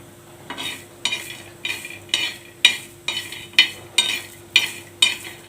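Chickpeas being stirred on a very hot pan, a regular series of about ten scraping, rattling strokes roughly every half second over a faint low hum, close up with no talking.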